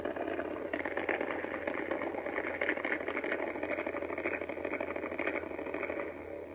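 Super Metroid's bomb array effect, repurposed as a lightsaber force sound, gives a steady, dense rumbling clatter. It keeps an even loudness for several seconds with faint pulsing, then tapers off at the end.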